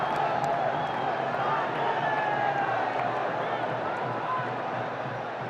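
A huge crowd at the Bangladesh Premier League cricket final in Mirpur cheers and roars continuously, a broad unbroken wash of noise with a slight swell midway and a gentle easing toward the end.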